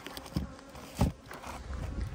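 Honeybees buzzing around a strong, very populous hive with open combs, a low humming drone with a few louder passes of bees flying close by.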